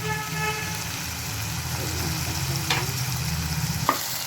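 Watermelon skin kootu is stirred in a frying pan: a steady soft sizzle with light scraping of the spoon and a few clinks against the pan, close by.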